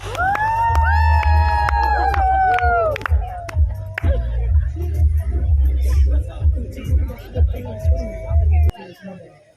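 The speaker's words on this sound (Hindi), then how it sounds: "Everyone, can we please make some noise?" A crowd at a sangeet night celebration cheers, whoops and shouts loudly, with high excited cries over heavy thumping party music that stops near the end, leaving scattered voices.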